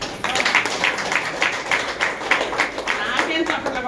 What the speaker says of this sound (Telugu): నాకేం చప్పట్లు కొడతారు.